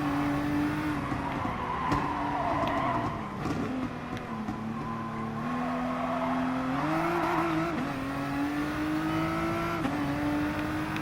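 A McLaren GT-R GT3 race car in Gran Turismo Sport at Mount Panorama, its engine droning loud and steady with pitch rising and falling through gear changes and revs, plus brief tire noise, without any talking.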